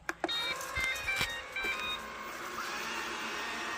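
A robot vacuum cleaner starts up in spot mode after a few sharp clicks and beeps, settling into a steady, moderately loud whirring motor drone that carries on to the end.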